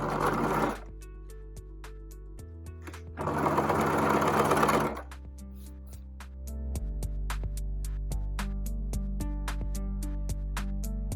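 A home sewing machine stitches a pocket on a zero-waste fabric market bag, running in short bursts that start, pause and reverse for a back tack, with a steady motor hum and a faint stitching rattle close by.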